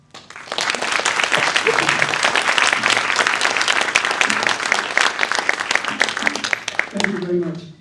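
Audience applause after a live music performance at a conversation-and-music event, sustained and dense for several seconds before fading, with a voice starting to speak at the end.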